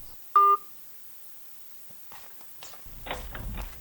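A single short telephone keypad tone beeps near the start, followed by quiet handling clicks and soft rustling movement indoors.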